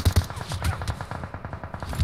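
Rapid bursts of gunfire in the PUBG Mobile battle royale game, a fast uneven volley of sharp repeated shots carrying through the whole stretch at steady loudness, with no talk.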